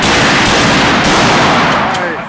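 A pumpkin shooter cannon fires at an outdoor pumpkin shoot, a loud, broad blast-like roar filling the whole moment and tapering slightly at the end, close and dominant.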